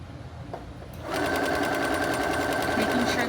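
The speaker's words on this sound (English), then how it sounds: "I'm just going to continue, and I'm going to continue sewing down the length," A home sewing machine stitches down a short length of fabric for a pillow. It starts after a second of quiet room sound, then runs with a steady, loud, fast mechanical whir right up close.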